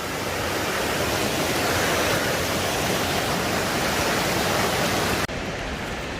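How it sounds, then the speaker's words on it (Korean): A mountain valley stream flows in a dense, steady rush of water, loud and close, holding constant before cutting off abruptly near the end. "산에 오를 때는 이런 계곡 있으면 기분이 좋아지는 것 같습니다"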